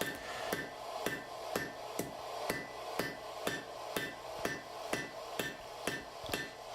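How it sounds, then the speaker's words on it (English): A hammer strikes a steel bar on an anvil, forging a square point at the end, with about a dozen sharp, ringing blows landing in a steady, even rhythm, loud and close. "I'm actually forging a square point on the end"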